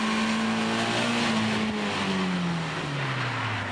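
A car engine revs hard under throttle work during drift training, a loud close high-pitched whine that holds steady and then slides downward as the revs fall, with no talking.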